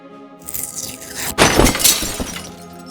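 A bird crashes through a stained glass window in the video game Goodbye Deponia, a loud glass shatter with a sharp impact followed by tinkling, scattering shards.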